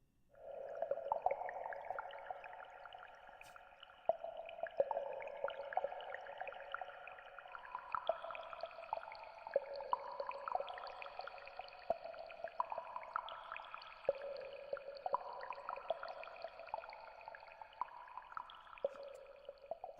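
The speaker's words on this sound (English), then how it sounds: "Cave drips?" Water dripping in a cave, as in a video game ambience: a steady, dense patter of tonal plinks and drops layered over one another, continuous and moderately loud throughout with no talking.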